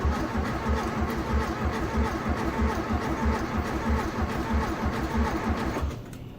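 A primed 1971 VW Beetle engine cranks and turns over with a rapid, steady chugging rhythm, loud and close, before cutting off near the end.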